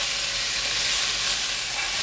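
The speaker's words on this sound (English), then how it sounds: "Now I'm just trying to get it browned up and get some extra flavor on there." Chicken with lime juice browning in a hot frying pan, a steady bright sizzle of frying that holds constant throughout, with no voices.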